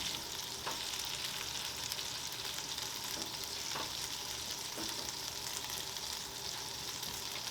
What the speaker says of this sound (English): We got the hash browns going over here.